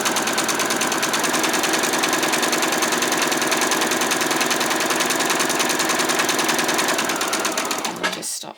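A sewing machine stitches the edge of fabric for a doll's skirt, running with a loud, continuous rapid mechanical whirr that holds steady for about eight seconds before stopping.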